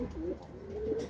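Racing pigeons arriving at the loft after a training flight, with soft cooing calls close by, a couple of short low coos in quick succession.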